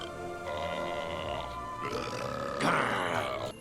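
A long, rough belch from a character in the video game Fable 3, let out in a townsperson's face, rumbling steadily for over three seconds and swelling louder near the end before cutting off.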